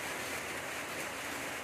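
Steady hiss of rain falling outdoors around a house in the countryside, soft and even for the whole stretch, with no voices.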